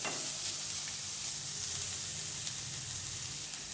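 Capsicum stirred in a hot frying pan gives a steady, close sizzle with soft scraping from the stirring, and no voices.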